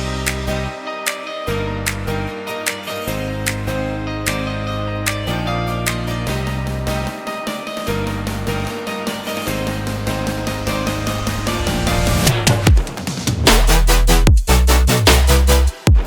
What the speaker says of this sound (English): This is what your buildup should sound like.